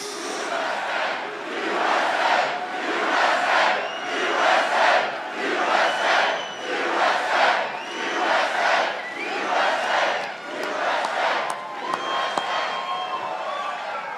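A large crowd at a political rally chants in loud rhythmic waves, about a dozen swelling bursts of massed voices repeated at an even pace with cheering between them.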